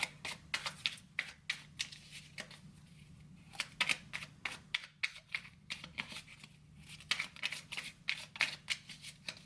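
Tarot cards handled, shuffled and drawn, quiet close papery taps and flicks in rapid irregular clusters with brief pauses, heard alone in a still room.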